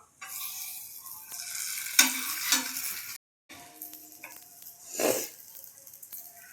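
A chapati sizzles loudly in butter on a hot pan, a bright crackling hiss with a short break midway and a few scraping turns.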